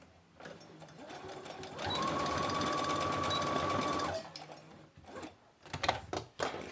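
A domestic sewing machine runs in one steady burst of about two seconds while stitching a fabric pocket, flanked by quieter handling noises and fabric rustle before and after.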